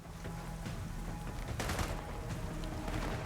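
Gunfire in Gears of War 4 shoots at a gravestone, heard as a quiet, muffled burst of rapid shots with a louder cluster in the middle of the clip, under a dense game soundscape.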